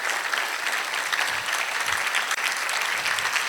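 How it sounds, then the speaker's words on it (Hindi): Church congregation clapping loudly and continuously at a live Ascension of the Lord service, a steady dense wash of applause with no voices over it. "जोरदार ताली बजाएं खुदावंद के जलाल के लिए"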